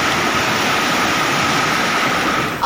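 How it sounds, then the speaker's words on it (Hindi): Floodwater from glacier melt rushes through rivers in Hunza, including the Ghizer River. It makes a loud, continuous roaring hiss of turbulent water that stays steady throughout, with no voices. "दरियाए गिजर समेत तमाम हुंजा के नदी नालों में पानी की सतह मजीद बुलंद हो रही है।"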